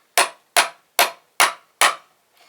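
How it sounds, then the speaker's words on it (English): A big hammer drives a hatchet into a wooden pallet board with five sharp, evenly spaced strikes, each a loud close crack that dies away quickly, with no talk. "So I take the hatchet with the big hammer and hammer it in."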